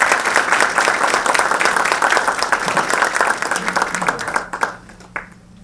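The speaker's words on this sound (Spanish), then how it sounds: "Recibamos con un fuerte aplauso a nuestro expositor fundamental," Audience applause at a conference on US elections greeting a keynote speaker, dense steady clapping from a crowd that fades out at the end.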